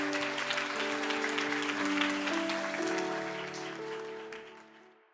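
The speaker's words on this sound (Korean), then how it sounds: "주님께 영광의 박수 올려드리겠습니다." Applause from a church congregation at an online early-morning worship service, a steady broadband patter filling the space over sustained organ or keyboard tones, fading out toward the end.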